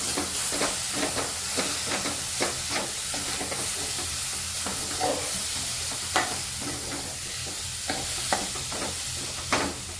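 A boiled pea and potato paratha filling is mixed in a pan, with rhythmic scraping and stirring strokes over a continuous soft sizzle and hiss, close up and without speech.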